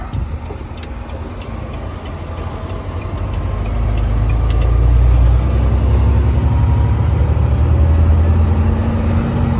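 A truck hauling bricks turns onto a gravel road, its engine a loud, steady low rumble that swells midway and stays heavy.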